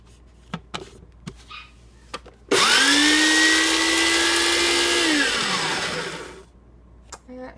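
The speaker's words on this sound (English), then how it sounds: "get these all blended up in the food processor" A food processor whirs loudly for about four seconds chopping soap scraps, rising to a steady high motor whine before winding down, with a few light clicks and knocks before and after.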